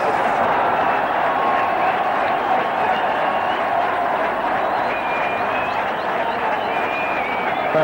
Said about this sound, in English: Crowd going berserk.